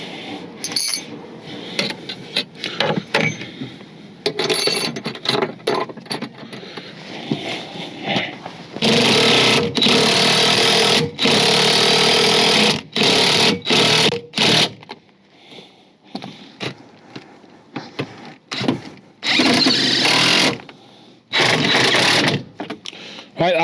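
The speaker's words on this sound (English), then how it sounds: "that's all the 4 original factory fitted bolt holes fitted, tightened up with our bolts" A power tool tightens bolts into the original factory bolt holes on a vehicle, with loud, sustained whirring and buzzing runs broken by short pauses and quieter handling sounds.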